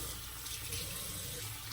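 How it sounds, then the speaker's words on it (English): Tap water runs steadily into a sink during handwashing, a constant close hiss of flowing water with no talking. "So I'm going to go ahead and wash my hands now"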